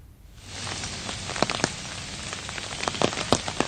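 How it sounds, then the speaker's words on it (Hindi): Heavy, steady rain pours down in Khargone, Madhya Pradesh, a dense continuous hiss of drops striking surfaces, with sharper splashes and patters rising out of the wash, close and loud with no voices. "आपको देखकर समझ आ रहा है कि अभी भी लगातार बारिश हो रही है"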